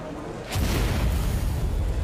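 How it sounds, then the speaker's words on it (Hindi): A missile strike on a residential area in Odesa, Ukraine: a sudden deep boom erupts and rolls into a sustained, heavy rumble that fills the rest of the clip. "रिहायशी इलाकों में मिसाइल गिरने के बाद हुआ बड़ा धमाका, धुएं का गुबार भी दिखा।"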